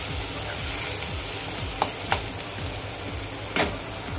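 Masala for Kolhapuri chicken tambda rassa fries in oil, a constant close sizzle with rhythmic stirring scrapes and a few sharp clinks of the spoon against the pan.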